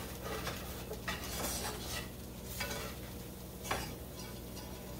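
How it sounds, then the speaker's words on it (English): A spatula or utensil scraping and raking across the bottom of a well-worn skillet while cube steak cooks, rough repeated scrapes with clinks over a constant frying sizzle, close and continuous. "Keep raking the bottom of that pan."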